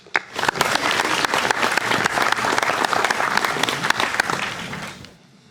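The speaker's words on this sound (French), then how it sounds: "Vous pouvez les applaudir." A conference audience gathered around food insecurity in Occitanie breaks into brisk applause for invited guests, many hands clapping loudly and steadily before tapering off near the end.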